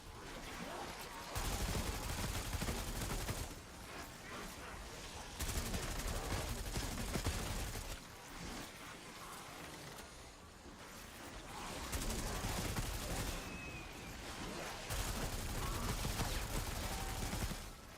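Continuous gunfire in a zombies survival challenge on the Terminus map, steady dense shooting in long stretches that rise and fall, fairly muffled and fizzy, with no talk.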